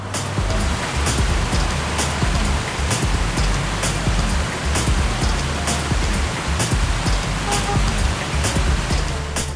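Heavy rain falls in a continuous loud hiss, with sharp periodic drips or splashes standing out against the steady downpour.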